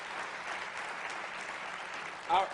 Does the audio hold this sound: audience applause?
yes